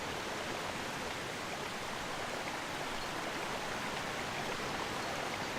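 A waterfall pool in Zelda: Twilight Princess gives a constant, dense rush of falling water, steady and broadband with no breaks, at moderate level and with no talking.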